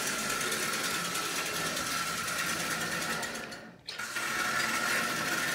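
A prewar Marx 999 toy train, old and dirty, runs with a loud, continuous mechanical whir and rattle that briefly dips and stutters before resuming at full clatter.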